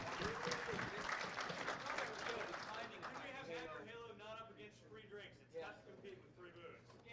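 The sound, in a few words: clapping applause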